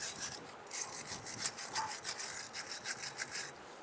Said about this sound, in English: I'm going to use my brass bristle brush and clean up around the top here. I'm going to take off any scaly rust.